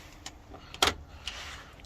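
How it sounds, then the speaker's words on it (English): A door on a Ford Transit Custom van is latched shut, giving one sharp, close metallic clunk with a few lighter clicks before and after it, heard alone. "So if I just latch this door over,"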